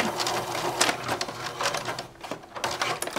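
A sewing machine stitches a D-ring onto a purse handle, its needle running in close, uneven bursts of rapid mechanical clatter with short pauses, no voices.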